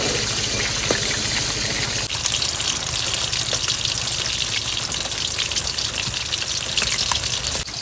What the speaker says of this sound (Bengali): এবার মাছগুলো ভেজে নেবো কাঠকই মাছ ভেজে রান্না করবো